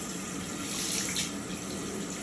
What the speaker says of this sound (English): So you turn the water on to get the right temperature.